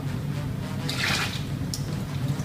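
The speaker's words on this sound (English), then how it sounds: "Rinsing out the suds one more time." Water runs into a Stella Artois beer glass to rinse out suds, a close, continuous splashing rush with a brighter gush midway.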